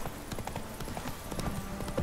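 The horse Roach gallops in The Witcher 3, a steady rapid clip-clop of hooves close and clear with a faint voice underneath.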